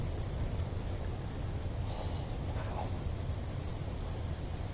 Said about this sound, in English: Birds are singing, can you hear them?